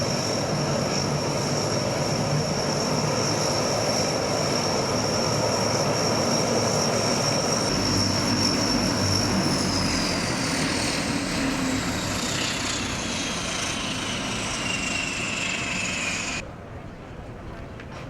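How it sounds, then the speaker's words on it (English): Engines of a C-130 military transport aircraft carrying evacuees from Tacloban after Super Typhoon Yolanda give a loud, steady propeller drone with whining tones that slide lower partway through, then cut off abruptly near the end. "With Magina's help, I was able to get on a C-130 to Cebu"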